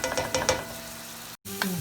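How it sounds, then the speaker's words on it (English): Balsamic vinegar simmers and sizzles in a hot pan, with a few scraping stir strokes at the start, a steady crackle underneath, and a short silent gap before the sizzle resumes. "Balsamic vinegar. Let it simmer for about 30 seconds."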